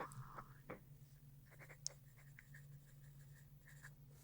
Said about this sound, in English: Don't get nervous because I'm writing.